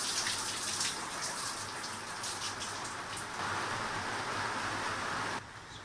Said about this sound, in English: the rain slowed down